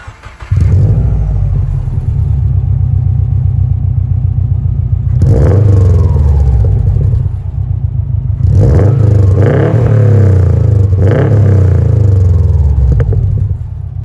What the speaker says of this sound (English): Subarus are definitely known for their exhaust burble, so this is what the exhaust sounds like right here.